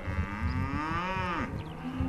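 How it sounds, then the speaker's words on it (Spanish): Cattle at a livestock market, one long drawn-out moo rising and falling close by, followed by a shorter low call, with no talking. "alguna vaca y algún ternero pequeñito ahí"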